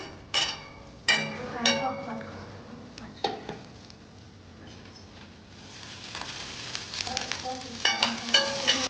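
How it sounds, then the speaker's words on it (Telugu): Onions sizzle in hot oil in a pan for a South Indian aloo curry, with a steady frying hiss broken by several sharp spatula scrapes and clatters, loudest near the start and end. "ఇది వేగిన తర్వాత ఇవన్నీ ఉల్లిపాయలు వేయాలి."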